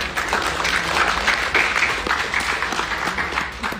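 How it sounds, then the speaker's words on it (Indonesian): A roomful of people applauding at a press conference about Indonesia versus Argentina football, a brief steady burst of many hands clapping, fairly loud and close, with no voices over it. "Tepuk tangan buat mereka."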